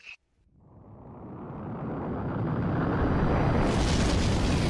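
A Big Bang explosion effect starts with a brief sharp burst, then a deep roaring rumble swells and builds into a loud, sustained blast that fills the rest of the clip, with no voices.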